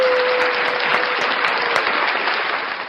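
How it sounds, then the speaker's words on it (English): Dense applause from a crowd, steady and loud throughout, with a faint tonal hum beneath and a slight fade toward the end; no voices. "I think she deserves a round of applause."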